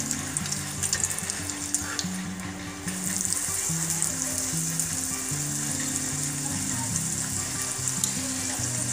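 Homemade potato chips deep-fry in hot oil, giving a continuous bubbling sizzle close by, with a low tonal hum or music underneath and no talking.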